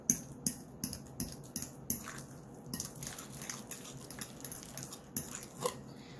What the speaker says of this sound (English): Sometimes I really do just like to mix stuff by hand